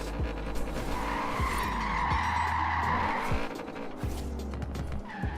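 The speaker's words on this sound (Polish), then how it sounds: "Ale fajnie strzela z wydechu przynajmniej" An Audi RS7 in the racing game Forza Horizon 4 drives hard, with a steady engine drone, tire squeal and skidding, and a scattering of sharp exhaust crackles and pops.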